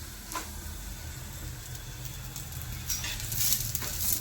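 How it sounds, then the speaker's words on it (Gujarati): Roti frying in hot oil gives a soft, steady sizzle with faint crackles and a few sharper pops, close and moderately loud, no talk. "પછી ગરમ રોટલી આપણે તળ નાખવી"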